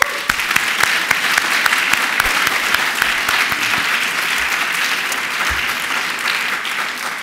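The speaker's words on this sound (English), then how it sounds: "I'd like to give you another round of applause." Steady audience applause fills a room at an alumni gathering in New York City, a dense, continuous wash of clapping with no break, loud and close throughout.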